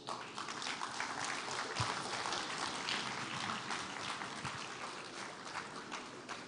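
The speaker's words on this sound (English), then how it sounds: "can the youths in the house clap again for Elder Paul Bassi?" Hall audience at a live Akwa Ibom dialogue clapping for Elder Paul Bassi, a dense, steady wash of many hands sustained throughout, moderately distant and soft, with no talk over it.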